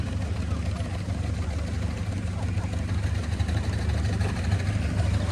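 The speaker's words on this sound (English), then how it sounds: "we've got a lovely Showman's engine doing the rounds here as well" A Showman's steam traction engine runs at the Dene steam rally, giving a steady, loud mechanical rumble and chuff that continues without a break.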